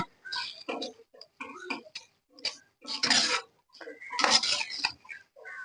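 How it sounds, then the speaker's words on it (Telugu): A spoon stirs ivy gourd curry with curd in a pan, giving close, irregular clinks and scrapes against the metal in short bursts with brief pauses between them. "రెండు నిమిషాలు ఓపికగా కలుపుకోవాలండి పెరిగేసిన తర్వాత"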